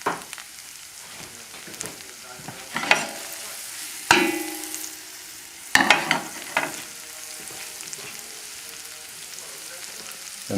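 Shallots and garlic fry in a pan for stuffed mushrooms with escargot, a steady soft sizzle broken by several louder stirring scrapes and clatters, close up with no talking.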